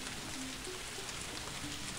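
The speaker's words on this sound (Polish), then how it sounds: "Deszczyk." Steady rain in the ghost-haunting game Ghost Master hisses evenly and densely throughout, a constant close wash with no voices.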